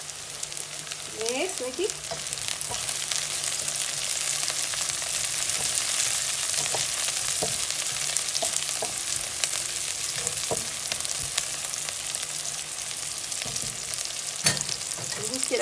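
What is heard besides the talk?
chili frying and sizzling in a pan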